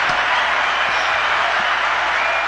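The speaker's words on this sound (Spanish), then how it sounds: "Un aplauso para la doctora Wendy." Steady applause from a studio audience on a talk show, a dense continuous wash of clapping at even loudness throughout, with no talk over it.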